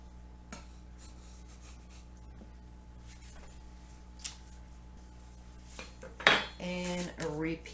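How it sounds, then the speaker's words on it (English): A spatula scraping under an English muffin to lift it, after a mostly quiet stretch with faint clinks. Near the end come several loud, close metallic scrapes and rattles against the pan. "I have a spatula and we'll try to pick it up"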